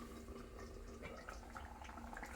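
Mango curry made with coconut milk bubbles steadily in a pot, a soft continuous simmer with faint popping at close range and no talk.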